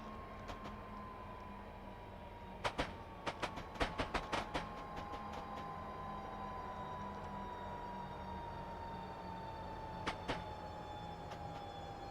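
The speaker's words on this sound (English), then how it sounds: "I need to start slowing the train down a little bit" A high-speed train between London and Faversham slows along the rails with a steady low rumble and a slowly falling whine, punctuated by a few clusters of sharp clicks, no voices.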